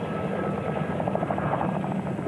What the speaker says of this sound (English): were herded together by Chinook helicopters